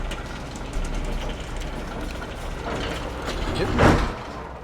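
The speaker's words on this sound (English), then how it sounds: "Oh, great. Another cable car." The cable car mechanism in Alan Wake Remastered runs with a low mechanical hum and grinding rumble, steady throughout and swelling into a louder clank near the end.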